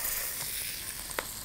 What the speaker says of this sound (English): And then we continue with pan frying.